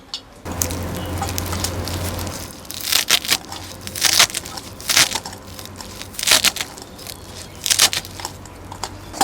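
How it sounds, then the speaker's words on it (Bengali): Garlic, ginger, onion and chilli ground by hand into paste in a rural village kitchen, giving repeated gritty crushing and scraping strokes in irregular bursts, fairly close and steady throughout. "ফাইনালি বাটাবাটি শেষ।"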